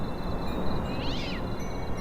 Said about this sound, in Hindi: भाई वहां कोई बिल्ली बैठी है क्या?